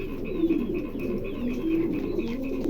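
A pair of fancy pigeons at a market gives soft, low, rolling coos in repeated bursts, close and steady, over faint background chatter.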